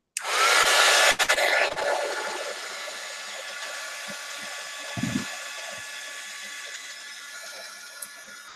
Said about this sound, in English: I'm going to use the heat gun for just a moment to get this dry as fast as possible